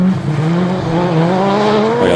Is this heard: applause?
no